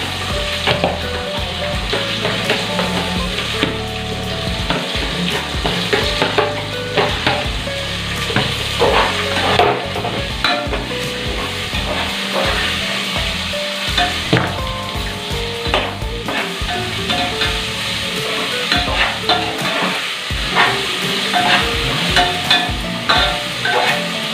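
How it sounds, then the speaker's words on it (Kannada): Onions frying in a pan for egg biryani, a continuous loud sizzle with frequent stirring and scraping clatter throughout, close up and without talk. "ಚೆನ್ನಾಗಿ ಗೋಲ್ಡನ್ ಕಲರ್ ಬರಬೇಕು, ಚೆನ್ನಾಗಿ ಫ್ರೈ ಆಗಬೇಕು."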